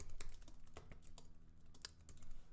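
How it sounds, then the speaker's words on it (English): Rapid typing on a computer keyboard during a live stream about gimbal setups, a steady run of close, busy key clicks with no talking. "just going to type in the chat too."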